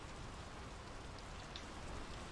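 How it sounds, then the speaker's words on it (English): Steady rain falls in the video game Draugen, a dense, faint, even hiss of drops on surfaces with no pauses or voices. "The rain's picking up."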